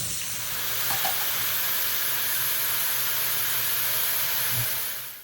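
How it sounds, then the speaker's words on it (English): Onions, garlic and vegetables browning with salt and pepper in a pan give off a steady, loud sizzling hiss that holds evenly throughout, with faint clinks now and then. "the onions, the garlic, and all of the vegetables that I just talked to you about are going to be browned with salt and pepper"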